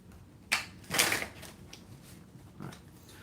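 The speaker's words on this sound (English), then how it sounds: "Quick shuffle." Tarot cards are shuffled quickly, giving two or three short papery riffling bursts close by, with quiet gaps between them.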